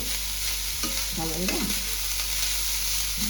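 Grated coconut being stirred in a hot pan for dudh puli, with a steady low sizzle and a few scraping spatula strokes near the middle, close and moderately loud, no talking.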